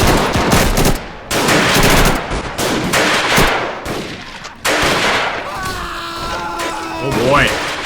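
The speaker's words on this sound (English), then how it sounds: "but that machine gun is blazing" Machine guns and rifles rattle loudly in dense bursts during a WWII-era strategy game battle set in the 1935 Italo-Ethiopian war. The fire cuts off briefly between volleys, and someone talks over parts of it.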